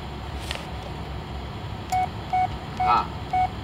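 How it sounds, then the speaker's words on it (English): Phone alert tones in the Blair Witch video game, a series of short electronic beeps arriving in quick succession over a quiet ambient background. "God, I'm getting a lot of text messages."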